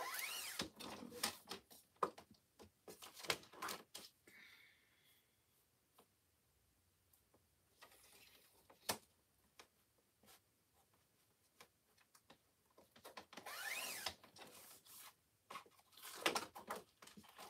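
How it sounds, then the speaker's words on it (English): A paper stencil having its sides trimmed, with bursts of crisp scratchy cutting and rustling near the start and end and quiet gaps between, faint and close. "I am going to trim a little bit off the sides of my stencil."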